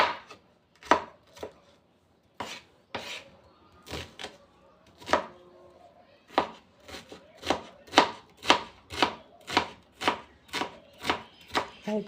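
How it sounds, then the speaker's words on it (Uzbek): A knife chops four peeled onions on a board in a home kitchen, steady rhythmic knocks close and clear, sparse at first then a quick even run of strokes, with no talking. "Piyozlarni tozalab oldim mana. Endi to'g'rab olaman."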